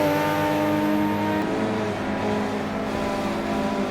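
A Toyota Supra, Subaru 22B and Honda NSX race on the Tsukuba track, several engines roaring loud and close in one continuous blended howl as they accelerate, with a shift in pitch partway through.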